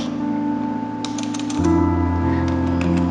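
Several quick, light key taps on a computer keyboard while entering a search word in Microsoft Word, heard close over a steady electrical hum that grows louder partway through.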